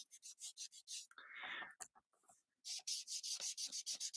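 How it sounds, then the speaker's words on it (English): Close rubbing strokes over embossed card stock in paper crafting, quick rhythmic scratchy swipes in two bursts separated by a short smoother rub and a pause, faint and near. "I'm just going to rub over the surface to catch all the embossing from that folder"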